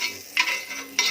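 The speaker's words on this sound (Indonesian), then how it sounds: "di atas panggangan ya. Pakai margarin atau blue" Margarine sizzles on a hot griddle while cooking kue penungkuk (kamir), a steady close hiss that swells in two brief louder bursts.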